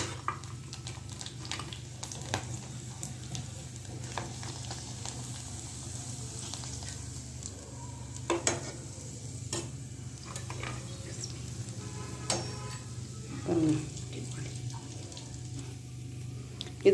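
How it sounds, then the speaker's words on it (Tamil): Rice flour vathal fries in hot oil with a steady close sizzle and scattered crackling pops, heard alone without talk. "உங்களுக்கு ஒன்று ஒன்றா பொரிச்சு காட்டுறேன் நான்"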